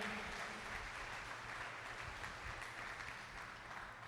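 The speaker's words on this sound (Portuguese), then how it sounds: "Dê uma salva de palmas a Ele" A church congregation claps together in steady, sustained applause at moderate distance, a broad wash of hand claps filling the space with no voices over it.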